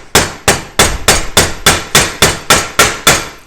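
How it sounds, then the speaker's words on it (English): A hammer strikes the end of a MICC pyro cable in ten sharp, evenly spaced metallic whacks, close and loud, with no talking. "I'm going to give this a few little whacks"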